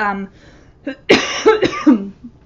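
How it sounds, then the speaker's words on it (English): A few short, harsh coughs close to the microphone, spaced unevenly after a brief murmur of voice at the start. "pardon my coughing."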